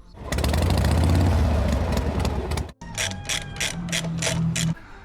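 A ratchet wrench loosening a nut during repair of a Dnipro MT motorcycle, a loud rapid clicking run, a brief pause, then a second spell of slower, pulsing ratchet clicks, close up with no speech.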